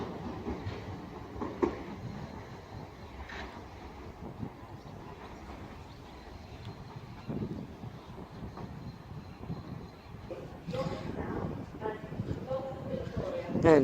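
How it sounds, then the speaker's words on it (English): Class 395 train 395-003 pulling out of Faversham station, a low rumble and hum of wheels and traction close by, growing louder toward the end, with people talking over it. "And that's 395-003 off to its next stop of Whitstable."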